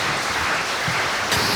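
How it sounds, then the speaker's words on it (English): An audience applauds panelists as they walk up at an interfaith conference, a dense, even wash of clapping from start to finish. "Would you give them a round of applause as they approach?"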